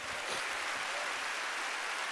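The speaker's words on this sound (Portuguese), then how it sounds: "Pode dar um aplauso a Ele, um brado de vitória ao Senhor" A church congregation at an evening Baptist service claps together in a steady, dense wash of applause that fills the room for the whole stretch, with no distinct voices on top.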